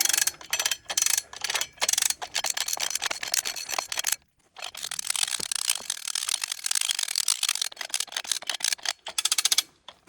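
A hand-cranked lever hoist at a sawmilling job ratchets close up in rapid bursts of sharp metallic clicks, one crank at a time, with a brief pause midway.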